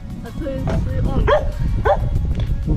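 A puppy meets horses for the first time and gives several short, high yips and barks in quick succession, heard close by, with people talking throughout.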